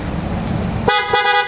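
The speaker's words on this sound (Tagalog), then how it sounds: "try natin yung quality ng busina mga boss" A PIE Auto Style Horn on a 2022 Toyota Wigo blares in two loud, close honks: a long steady tone followed by a short second blast.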